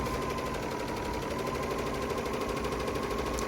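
A Bernina L850/L890 sewing machine runs steadily, feeding fabric with differential feed set at neutral, giving a continuous fast mechanical whir and rapid needle chatter, close and alone.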